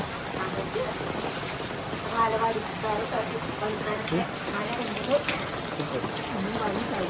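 Steady rain patters and hisses throughout, soft and even, with people talking quietly beneath it.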